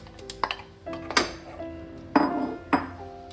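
A metal lid goes onto a cooking pot holding fried pointed gourd, giving several sharp ringing clinks and clatters, two louder strikes near the end, with no talking.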